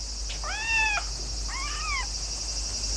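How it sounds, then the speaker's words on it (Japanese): A cat meows twice, two clear separate calls about a second apart over a steady background hum, with no voices. "あれ、猫がいますよ。"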